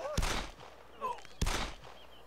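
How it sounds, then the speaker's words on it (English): Two sharp, loud gunshots about a second apart ring out in the DayZ Mod video game, with faint voices in the background. "I'm ripping off shots."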